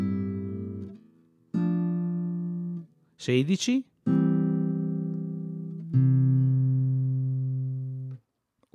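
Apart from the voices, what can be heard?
classical guitar playing measures 15 and 16 of Sagreras lesson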